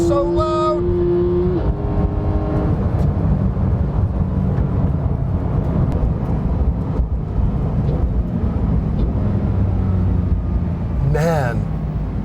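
A naturally aspirated 500 hp Porsche 911 engine roars loudly under hard acceleration from inside the car, with shifting pitch and steady intense drone throughout.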